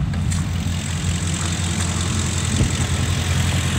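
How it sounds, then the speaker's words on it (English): Car engine idling steadily while warming up, a continuous low rumble heard up close at an even level, with no voices. "So while the car is warming up"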